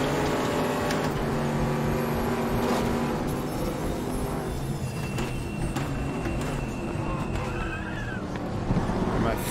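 GT1 and GT3 race car engines roar steadily throughout a multi-class endurance race at Imola in the RaceRoom racing game, with continuous loud engine drone and shifting pitch.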